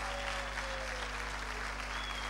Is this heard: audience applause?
yes